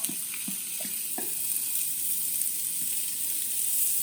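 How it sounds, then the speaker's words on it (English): Onions sizzle and crackle steadily in a hot pan, with a few soft clinks of stirring near the start. "A little bit of a stir, see them nice and sizzling"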